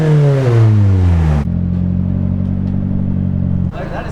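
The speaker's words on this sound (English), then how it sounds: "That is the easiest car to do a burnout in." A Nissan S14 revs hard during a burnout, its loud engine note sliding downward before settling into a steady, rough drone, then cutting off abruptly near the end.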